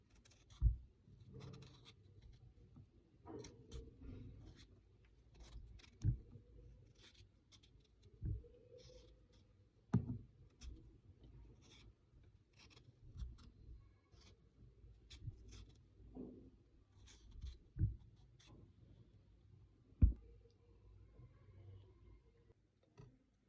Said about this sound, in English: I want to start by peeling the potatoes